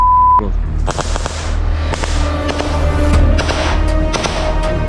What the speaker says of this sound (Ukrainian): Якщо що, це стріляли ми.